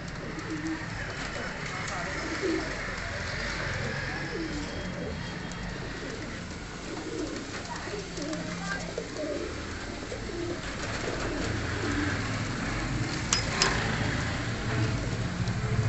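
Pet pigeons coo softly in a loft, low repeated murmuring calls under a constant hiss and scattered rustling, with a voice speaking at points.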